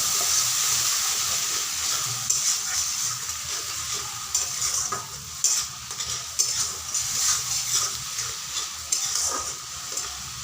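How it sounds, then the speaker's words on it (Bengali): Masala for egg curry frying in a pan after a little water is added, giving a steady close hiss and sizzle with scattered stirring scrapes and light clicks over about ten seconds, no voices. "তো এখানে আমি এখন সামান্য একটু পরিমাণে জল দিয়ে দিচ্ছি, তাহলে মশলাটা ভালো কষানো হবে।"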